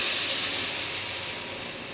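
Water tipped into spice paste frying in a pan, giving a loud, steady hiss of sizzling and steam that fades slowly over a couple of seconds, with no voices.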